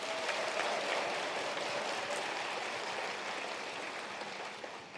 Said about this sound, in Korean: 다시 한번 큰 박수 한번